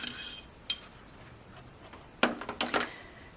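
Metallic clinks and light scrapes as the barrel is removed from a Springfield Hellcat PRO pistol, with one small tap early on and a cluster of sharper clicks near the end, close and fairly quiet.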